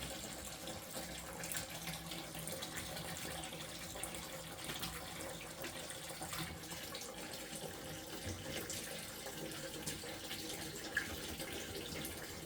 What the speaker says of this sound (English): chunks of algae is going down the tube into the bucket